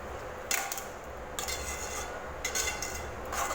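A utensil mixes bitter gourd curry in a pan, making a steady, close scraping and rubbing with periodic louder swishes over a constant low background hiss, with no talking.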